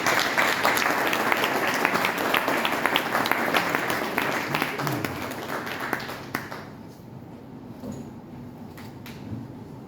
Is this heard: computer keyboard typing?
no